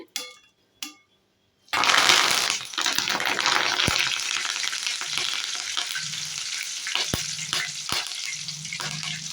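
Garlic, dried red chillies and curry leaves are dropped into hot oil with golden-browned coconut, setting off a sudden loud, sustained sizzle with occasional stirring clinks. No voices.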